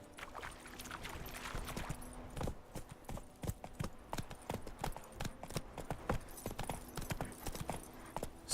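Horse hooves clip-clop in a steady, close trotting rhythm in The Witcher 3: Wild Hunt, heard over a continuous low ambient game background with no talking.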